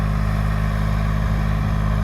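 A tractor engine idles with a steady, close, loud hum at a county fair horse pull, its low throb constant and unbroken, with no talk over it.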